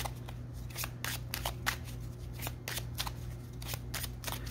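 Tarot cards are shuffled in repeated quick riffling bursts, close and crisp, over a low steady background hum.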